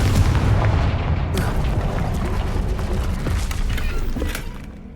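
A Confringo blast spell in Hogwarts Legacy goes off with a heavy boom, then a rumbling, crackling explosion that rolls on for several seconds and fades slowly.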